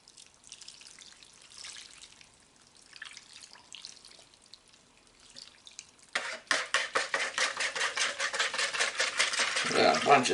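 Sausage meat and seasoning mixed by hand, starting with quiet soft squishing and then a run of louder rhythmic wet slapping and squelching that builds toward the end.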